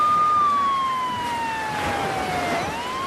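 An ambulance siren wails in a slow, sliding tone as a sound effect, loud and steady with no other sounds, gradually falling in pitch before rising again at the end.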